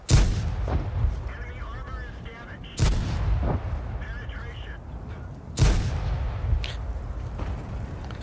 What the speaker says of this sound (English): You can see that I was shooting at those tanks